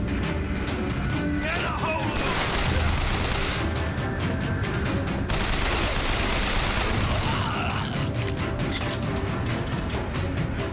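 Machine gun fire in BioShock Infinite, a loud and nearly continuous clatter of rapid shots with crashing impacts. It runs for several seconds with brief pauses and bursts of heavier fire.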